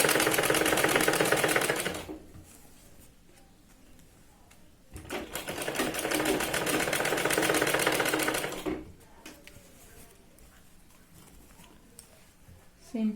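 Sewing machine stitching sherwani fabric for an 8 to 10 year old boy, two loud sustained bursts of rapid needle clatter separated by a quiet pause, close up, ending in near silence.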